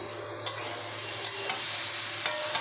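Marinated food with chopped onion frying in mustard oil, a dense close hiss of sizzling with several light spatula taps and scrapes spaced through it, no talk.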